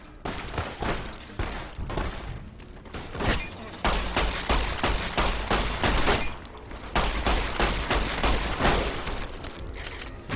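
Sustained gunfire in the video game Fallout: New Vegas, with rapid overlapping shots and bursts forming a dense, loud barrage that runs almost without pause.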